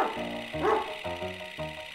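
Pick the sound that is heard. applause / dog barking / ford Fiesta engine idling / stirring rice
dog barking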